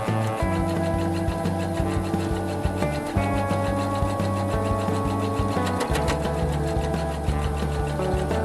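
A sewing machine stitches quilt fabric pieces together, a continuous close mechanical whirr with a fast, even rhythmic needle chatter and slight changes in pitch as the speed varies.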